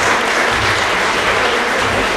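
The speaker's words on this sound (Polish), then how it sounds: "oklaski dla młodzieży" Steady, dense applause from a crowd at a Kraków city council session, clapping for young volleyball players who won a gold medal; loud and continuous throughout with no gaps.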